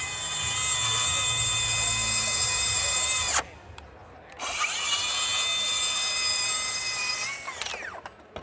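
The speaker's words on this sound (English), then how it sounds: "We'll just go ahead and make a cut with the sidewinder." A Milwaukee sidewinder circular saw rips through three layers of plywood with a loud, high whining buzz, briefly stops and spins back up, then the motor winds down at the end.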